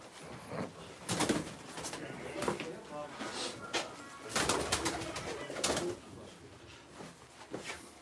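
Pigeons coo at a bird-market stall, low bird calls mixed into busy stall noise with bursts of broadband clatter and people talking nearby throughout.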